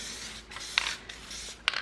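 Adhesive sprayed in short hissing bursts onto a carbon fiber sheet or ply, a light coating applied in two brief passes with small sharp clicks, close and fairly quiet with no voices.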